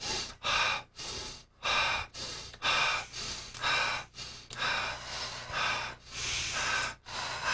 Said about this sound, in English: breathe in through the nose and breathe out through the mouth